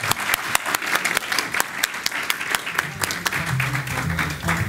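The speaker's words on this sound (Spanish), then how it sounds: "Y un aplauso." Warm applause from an evening lecture audience at a cultural center, many hands clapping steadily and fairly close for several seconds, with a voice starting to speak as it fades.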